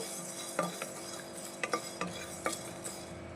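Cardamom and thinly sliced dry coconut frying in a pan, heard as a handful of sharp scrapes and stirring clinks over a soft, steady background hiss, with no talk.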